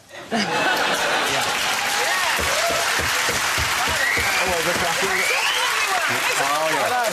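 A studio audience at a comedy panel show breaks into loud, sustained clapping mixed with laughter, filling the whole stretch close and dense, with speech-like voices faintly woven through.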